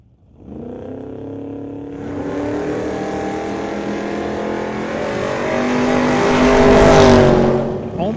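Drag race between a 1985 S10 pickup and a 2022 Mustang, a loud engine roar building from launch into a sustained high-revving howl that swells through the run, close and dominant, then drops off at the end.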